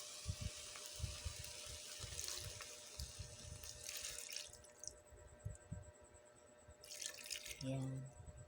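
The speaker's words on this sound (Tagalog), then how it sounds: "Lagyan natin siya ng kaunting tubig" Water is added to a pan of fish paksiw cooking on the stove. The splashing and trickling is faint and patchy, with quiet background noise.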